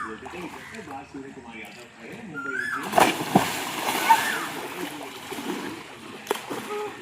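People splashing in a large outdoor swimming pool surrounded by trees, with scattered splashes and sloshing water under ongoing talk from people nearby.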